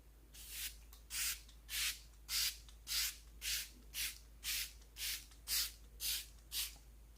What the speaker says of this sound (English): spray everything once you've powdered your face again with a long wear setting spray